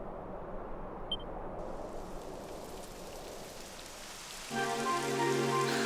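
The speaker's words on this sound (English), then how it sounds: "It would have to go and start raining," Steady rain patters in the video game Dragon Quest XI, a continuous close hiss of falling drops, joined near the end by a swelling tonal music layer.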